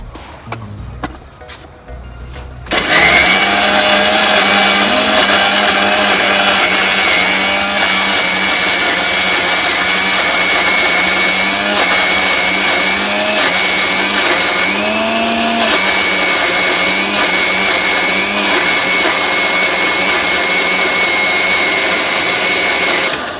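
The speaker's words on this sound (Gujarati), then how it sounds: "આ ડુંગળી નાખી દીધી મિક્સરમાં હવે તમે જુઓ એકદમ ગ્રેવી કરી દો" A mixer grinder whirs loudly and steadily after a brief quieter start, its motor droning continuously as it blends onion into a gravy paste, with slight pitch wobbles throughout.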